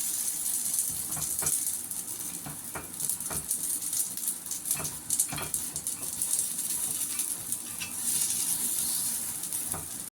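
Suyyam, jaggery-sweetened dumplings, frying in a pan with a steady hiss of oil, broken by occasional soft crackles and pops as they cook, fairly close with no voices over it.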